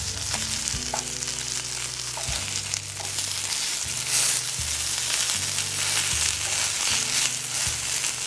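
Tilapia fillet frying in a pan: a steady, close, bright sizzle and crackle running throughout, over a low intermittent hum, with no one talking.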